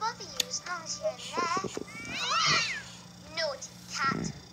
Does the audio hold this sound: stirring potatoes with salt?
no